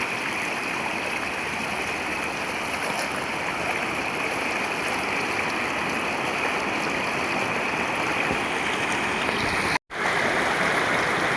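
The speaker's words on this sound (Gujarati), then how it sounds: "જો હજી કેટલું બધું પાણી જાય છે।" Floodwater in a swollen river rushes past continuously, a dense, loud, steady roar of flowing water close by that carries on unbroken, with one brief dropout near the end.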